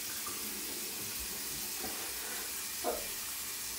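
Water runs steadily from a tap while someone washes their face, a continuous hiss with a faint splash or two near the end.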